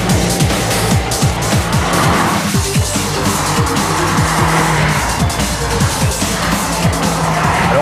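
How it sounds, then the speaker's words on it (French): Peugeot RCZ coupé with a BMW-built petrol engine, loud continuous engine roar climbing through the revs, with tyre squeal and rapid gear-related pitch sweeps up close. "Le moteur monte dans les tours, dans un bruit très sympa."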